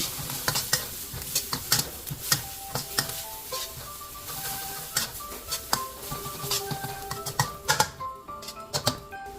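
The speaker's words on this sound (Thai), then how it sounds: "แล้วก็ใส่วุ้นเส้นแก้วลงไปผัดเลย" Glass noodles being stir-fried in a pan with shrimp, a soft sizzle under sharp, irregular clicks and scrapes of a utensil against the pan, close and fairly quiet, no talking.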